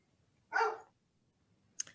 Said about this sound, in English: I heard a dog bark